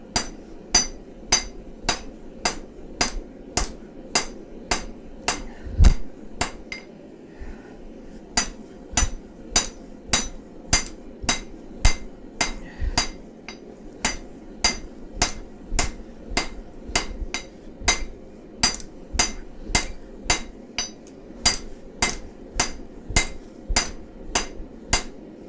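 Steady hammer blows ring out on steel being forged into a chef knife, roughly one to two strikes per second over a continuous low workshop hum, with a short pause near the start.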